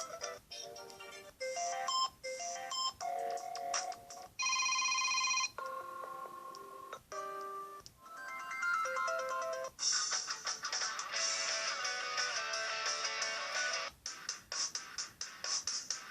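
A series of different phone ringtones from a Galaxy S3 running Gummy ROM 4.4.2 play one after another, short electronic melodies and chimes separated by brief pauses, fairly quiet.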